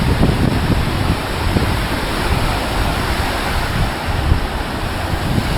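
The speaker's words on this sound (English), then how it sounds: "The waves are massive right now," Large waves break on the volcanic black-sand shore of Lake Nicaragua at Ometepe, a loud, continuous roar of surf with rushing wash and wind buffeting the microphone throughout, no voices.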